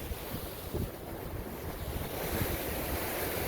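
Waves wash steadily against a park shoreline in a continuous, fairly faint surf, blended with gusty wind rumbling across the microphone and no voices.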